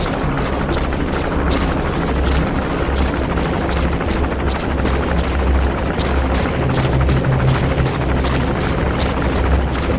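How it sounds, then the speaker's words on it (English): Helicopter rotors in Metal Gear Solid 5 chop steadily and loudly throughout, a dense continuous whir with rhythmic beating and layered game ambience, no voices. "More helicopters."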